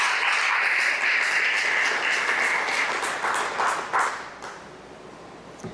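A church congregation claps together in a broad, dense burst that holds steady for several seconds, then thins and fades as the clapping dies away.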